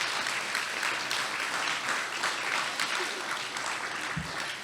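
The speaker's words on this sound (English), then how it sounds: "please give them all a round of applause" Crowd applause at an outdoor rally supporting Afghan refugees, a steady, dense stretch of many people clapping that holds at an even level from start to finish without speech over it.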